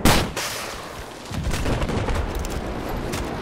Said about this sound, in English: This thing's kind of weak, honestly, this rocket launcher, but, you know, it does stuff.